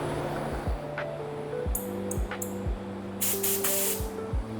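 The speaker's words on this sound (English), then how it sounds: "I'm shooting with the LPH 400 Awada" An LPH 400 spray gun sprays candy pearl pink paint onto a car hood in short bursts of steady, close hissing, set against a low background drone and some clattering.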